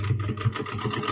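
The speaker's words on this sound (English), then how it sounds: "It's sewing. It sounds a bit dull." A Singer 319k sewing machine stitching with a twin needle, a close, steady mechanical whirr with a fast rhythmic thump of the needle, running alone.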